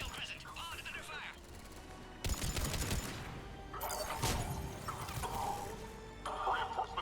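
Bursts of sci-fi gunfire from the Mass Effect 3 game, rapid shots in clustered volleys with mechanical clatter and brief lulls between, loud and close.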